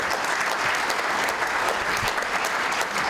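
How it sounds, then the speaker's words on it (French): Sustained, dense audience applause at the closing ceremony of the 2015 Bamako Forum, steady and loud for the whole stretch with no voices on top. "je voudrais vraiment de l'applaudir"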